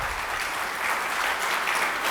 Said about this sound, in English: Can we have a special round of applause for Durgesh Bhai?